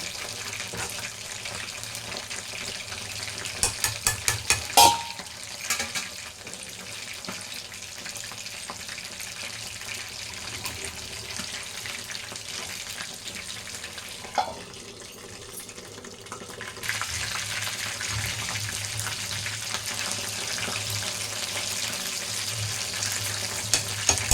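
Chicken 65 frying in a pan and being stirred, a steady sizzling hiss throughout with a burst of sharp clattering strokes early and a louder scrape midway, close and without talk.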